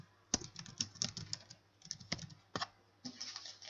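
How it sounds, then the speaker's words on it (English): Close, quiet computer-keyboard typing as a spreadsheet label is entered, crisp keystrokes in short rapid bursts separated by brief pauses. "we're going to type total revenue"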